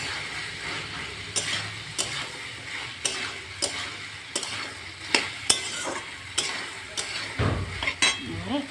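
Prawns frying in a thick reduced spice masala, a steady sizzle under repeated scrapes and clanks of a spoon stirring against the pan, close and continuous.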